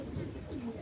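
A Panjabi Malwai pigeon cooing in a short, faint, low burble with a soft rolling call near the end.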